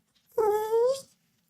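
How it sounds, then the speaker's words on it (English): A small dog gives a single close, high whimpering whine lasting about half a second, rising then fading, alone in an otherwise quiet moment. "Run along, little doggy."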